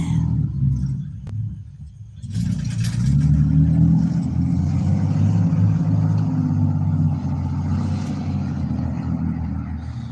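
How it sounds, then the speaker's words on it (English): A truck drives past as a deep, loud engine rumble that swells in after a quieter opening and holds steady for most of the stretch before easing slightly. "I was waiting for that truck to leave"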